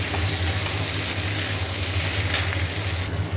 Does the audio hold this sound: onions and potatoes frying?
yes